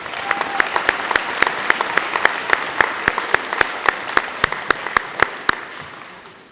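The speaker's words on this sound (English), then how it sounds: "Let's give them a well-rounded applause." Applause fills a school gym at a varsity jacket night, a crowd's steady clapping overlaid by one loud nearby clapper striking sharp, evenly spaced beats that fade out near the end.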